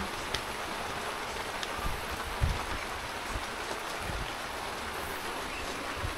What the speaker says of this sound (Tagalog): binabot na tayo ng ulan dito